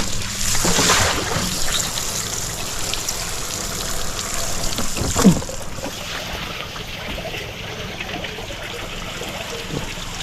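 Water splashing and trickling steadily nearby as a sprayer tank is filled, with a louder gush midway, over a low mechanical hum.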